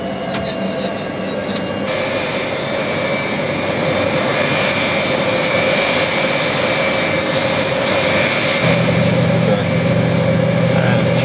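Aircraft engines spooling up during a start sequence on the ground crew's signal: loud, continuous close-range turbine roar with steady whining tones, a low hum entering near the end, and no talk over it.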